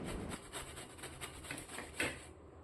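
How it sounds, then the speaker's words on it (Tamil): Raw mango is grated on a hand slicer, a continuous close rasping with a quick repeated stroke rhythm that ends abruptly, with no talking. "இது மாதிரி சாப்பரில் இதை வந்து நல்லா சீவி எடுத்துக்கலாம்"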